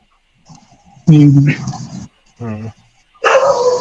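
A dog barks in short bursts somewhere nearby during an indoor conversation, the yips and barks mixed in with people talking.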